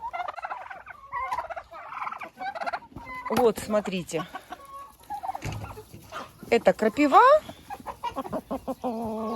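Turkeys and chickens kept together, gobbling and clucking in bursts with sharp calls rising over a voice, which talks briefly near the start and again in between.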